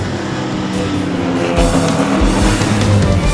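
GT and touring race cars run at the Nürburgring Nordschleife, giving off a loud, continuous engine roar close by with shifting pitch as the cars accelerate and pass. No voices are heard.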